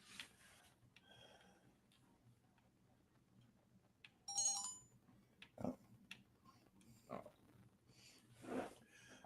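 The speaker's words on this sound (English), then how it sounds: "so sorry folks, the notification sounds you hear." Several short notification chimes sound during a gaming livestream, spread apart over quiet background. They are brief, bright tones with soft ticking in between.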